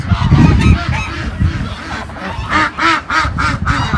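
Geese on a farm honk loudly and close in a rapid series of calls, several birds overlapping, with duck-like quacks mixed in.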